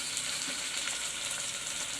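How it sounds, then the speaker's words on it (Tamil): Tomatoes and spices sauté in a pan for chicken biryani with green masala, giving a steady, close sizzle and frying hiss throughout, with faint stirring and no voices. "இதையும் சேர்த்து நல்லா வதக்கிக்கலாம்"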